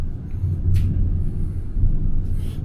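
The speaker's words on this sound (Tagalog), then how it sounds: "Kakatakot yung kulog oh." Thunder during a stormy power outage at home, a continuous loud, deep rumble rolling steadily for a few seconds with no talk over it.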